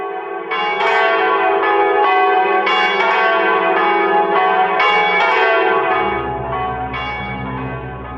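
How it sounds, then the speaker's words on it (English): Church bells cast in Germany ring out loud and resonant at Immaculate Conception Church in Cooks Creek, Manitoba, repeated strikes overlapping in a rich sustained peal, with a deeper hum swelling toward the end. "they cast those bells in Germany, and they shipped them here by steamboat"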